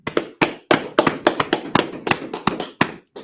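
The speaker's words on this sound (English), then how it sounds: "Clap it up." A church congregation at a Sabbath service claps in a quick, uneven rhythm, with about a dozen sharp, close claps in a row and no voices over them.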